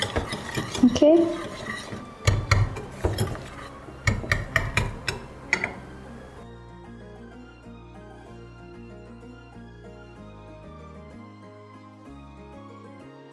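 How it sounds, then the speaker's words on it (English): Whisking white sauce for pasta until it thickens: a brisk run of metal whisk clinks and scrapes against the pan, then quieter stirring with soft music underneath, and a brief word spoken. "you're going to keep on whisking it till it's thick"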